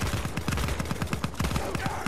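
Rapid gunfire in the video game Battlefield 1, a dense burst of sharp automatic shots in quick succession, loud and close, lasting about two seconds with faint voices underneath.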